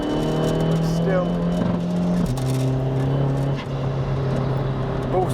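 Skoda Fabia vRS with a 1.9 TDI ASZ engine tuned to 402 bhp, heard from inside while driving on a damp road, with a steady engine drone and a faint high turbo whine from a suspected boost leak.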